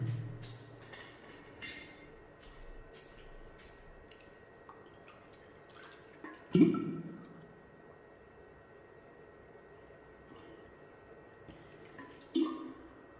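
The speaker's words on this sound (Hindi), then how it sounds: "पी लूं पानी" Water being poured and drunk during a pause in a physics lesson, with faint trickles and drips and two brief louder splashes or gulps, in quiet surroundings with no talk.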